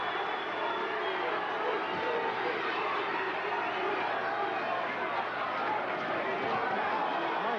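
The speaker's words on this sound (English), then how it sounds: "Gets the crowd excited." A boxing arena crowd roars steadily at a heavyweight bout between Oliver McCall and Bruce Seldon, a dense, continuous wash of cheering and chatter that holds at the same level throughout.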